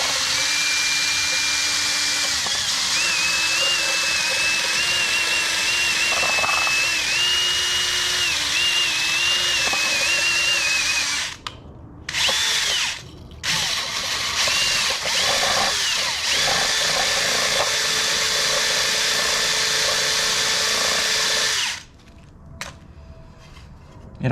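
A power drill spins a stainless steel wire brush inside the tail light bulb socket of a '55 car, a loud, steady whine that dips and stops briefly midway, then runs on before cutting out.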